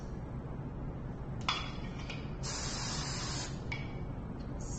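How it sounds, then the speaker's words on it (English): Hairspray hisses onto styled thin hair in several short bursts, two quick sprays followed by a longer one of about a second and a final brief spurt, close and fairly quiet. "Spray that in place."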